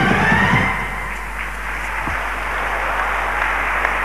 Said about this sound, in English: Gets good applause.